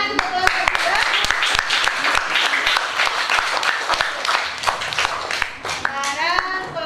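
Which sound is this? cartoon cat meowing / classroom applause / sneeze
classroom applause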